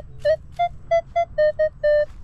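Metal detector giving repeated double-tone beeps while sweeping beside a pole in a park: seven clear, evenly spaced electronic tones, each a short pitched bleep, loud and close over a low background hum.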